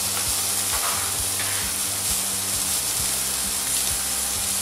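Onions fry in a pan during the making of beef shank in vegetable broth, a dense, continuous hiss of sizzling oil that stays even and close, with no talking.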